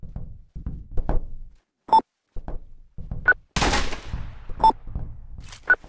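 Gunfire in a third-person police shooter video game: a sharp single shot, a brief loud burst, then several more isolated shots, with short pauses between them and no talk over them.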